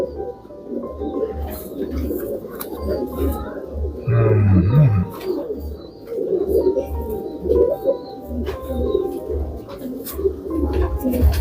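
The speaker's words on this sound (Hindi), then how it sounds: "ये देखें आप, ये है फिरोजपुरी कबूतर।" Firozpuri pigeons in a loft give repeated low, throaty coos close by, pulsing in a steady rhythm, while someone talks over them and other birds chirp faintly.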